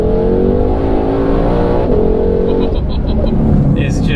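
A 2020 Shelby GT500 accelerates hard with loud, continuous engine roar and rising revs, its pitch dropping briefly at paddle-shifted gear changes, with light talk in the cabin.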